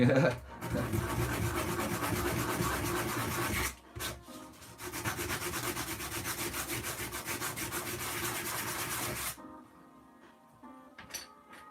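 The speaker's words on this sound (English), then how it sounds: "I could use my rough 40 grit sandpaper because I'll be covering them up anyway." Vigorous rough sanding on wood with 40 grit sandpaper in two long bursts separated by a brief pause, a harsh rhythmic scratching that ends suddenly into near quiet.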